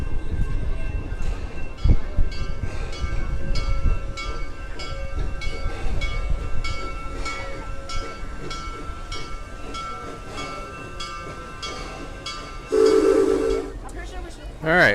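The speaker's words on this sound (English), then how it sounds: "Looks like we got a train crossing." A theme park train at Busch Gardens Tampa Bay rumbles and clatters past a crossing nearby with hissing and rhythmic wheel noise, then a short whistle blast sounds near the end, with people talking faintly.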